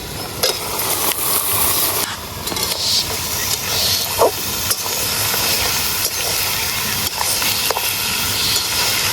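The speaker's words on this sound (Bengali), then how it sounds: "এই যে পেঁয়াজটার সঙ্গে সঙ্গে মাংসটা ভাজা হবে তার জন্য মাংসটা দিয়ে দেবো" Chicken meat and onions frying together in a hot pan: a loud, dense hiss and sizzle fills the whole stretch, with occasional stirring scrapes and clicks, close up, no one speaking.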